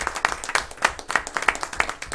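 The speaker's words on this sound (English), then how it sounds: "Maybe it's our turn to applaud the people out in the audience." A county board of supervisors meeting audience claps: a small group gives rhythmic, fairly close applause in distinct uneven bursts that carry on steadily.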